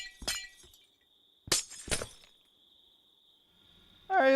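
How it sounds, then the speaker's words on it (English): Glass blocks shatter in Minecraft, three sharp crunching breaks spaced apart over a faint steady tone, followed by a brief different game sound at the end. "I wonder if I could just break these off. These pieces of glass."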